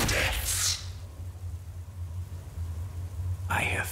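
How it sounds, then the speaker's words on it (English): Rain and rolling thunder in the video game Furi: a steady low rumble and hiss of rainfall throughout, with brighter bursts of noise at the start and near the end. "I hear thunder, pitter-patter."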